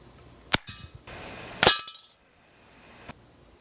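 .22 caliber pellets from a Benjamin Marauder air rifle strike a metal Coleman can, giving sharp, close cracks with metallic clinks and a rattling ring. Three separate impacts are spread over several seconds.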